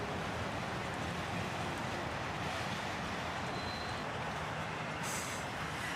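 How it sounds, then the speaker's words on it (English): A CSX freight train hauling auto racks, among them a rusty old Southern Pacific car, rolls past close by with a loud, steady rumble and rattle of wheels on rail and a faint high squeal, no voices. "the tail end of the train comes by, brought up by a rusty old Southern Pacific auto rack here"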